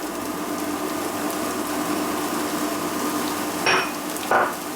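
Chopped onions hitting a little hot oil in a frying pan, giving a steady soft sizzle throughout with two brief louder crackling bursts near the end; no one speaks.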